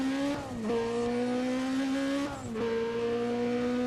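An all-wheel-drive race car in a racing video game, its engine droning loud and steady with two sharp drops in pitch at gear shifts, and a faint tire squeal under it.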